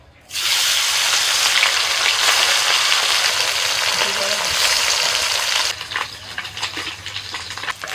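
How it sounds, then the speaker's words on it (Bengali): Small mourala fish from the sea fry in hot oil in a kadai, starting with a sudden loud, dense sizzle that holds steady and then settles to a quieter crackle with occasional light stirring. "সব মাছগুলো ভাজা হয়ে গেল এবার মোরলা মাছগুলো ভেজে নেব"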